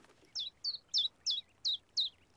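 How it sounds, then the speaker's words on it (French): A small cartoon bird in a peaceful garden sanctuary chirps six times in an even rhythm, each bright tweet short and clear against near silence. "Silence, petit oiseau."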